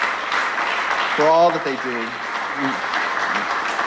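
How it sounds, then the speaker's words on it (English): Audience applause at the 2019 State of the City address in San Gabriel, honoring the fire chief and fire department, a steady wash of clapping running throughout with a voice speaking over it. "please give Fire Chief Wallace and the San Gabriel Fire Department a big round of applause"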